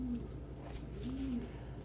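A pet bird, a dove or pigeon, gives two soft low coos, one brief and one slightly longer, close by in a quiet room with a faint steady background hum.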